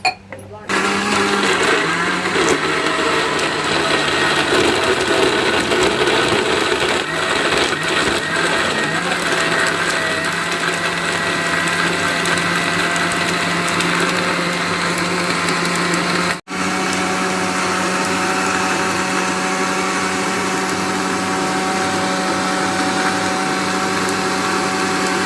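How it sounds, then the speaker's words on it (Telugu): A kitchen mixer grinder blends seema chintakaya (Manila tamarind) juice with a loud, continuous whirring drone. The motor cuts out for a moment midway and then runs on, with voices faintly audible beneath it. "మొత్తం అయితే మిక్సీ అయిపోయింది"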